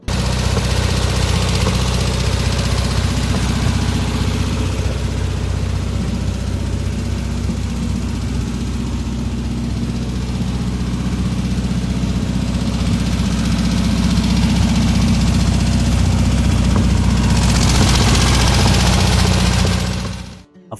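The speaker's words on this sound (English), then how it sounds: "Powered by Volkswagen's dependable air-cooled engine" Air-cooled engine of a 1960 Volkswagen Beetle dune buggy running steadily for about twenty seconds, a loud, close, low rumbling idle with an even throb, cutting off abruptly at the end.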